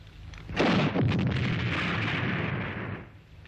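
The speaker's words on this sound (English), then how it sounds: "A bazooka." Bazooka fires in an action film trailer, a single heavy boom that breaks out abruptly and rolls into a long rumbling blast, loud and close with no voices over it.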